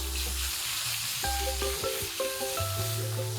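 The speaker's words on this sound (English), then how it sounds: "Increase the flame, turn the pan on one side and throw in the tomatoes." Halved cherry tomatoes sizzle in a hot pan on a raised flame for a pesto chicken dish, a steady close frying hiss with soft background music playing over it.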